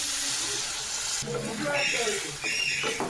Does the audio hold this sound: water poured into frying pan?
yes